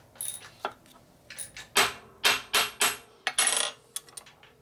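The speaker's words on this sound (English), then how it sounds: "Hold it right there and we just hit it with a hammer" A series of sharp metallic strikes of a hammer flattening aluminum, about ten in irregular clusters, bright and ringing, close by with quiet gaps between.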